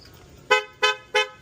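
A car horn honks three times in quick succession, short, loud and evenly spaced toots close by, with no talking.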